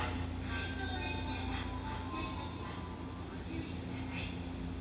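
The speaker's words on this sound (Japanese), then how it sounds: "7番線は回送電車が到着をいたします" An out-of-service E259 series train pulls into a platform at Ofuna Station, a steady low rumble with faint tonal squeals, and a station announcement voice talks over it throughout.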